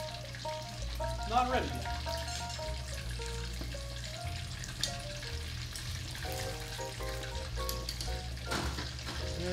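Japanese karaage chicken pieces frying in hot oil, a steady close crackling sizzle that runs throughout, with a few brief clinks and a short spoken remark over it.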